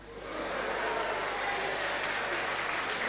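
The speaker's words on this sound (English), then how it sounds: "I'm happy that you are clapping for that one too" A live audience at a social media broadcast bursts into steady applause that swells within the first half second and then holds as a dense, continuous wash of clapping.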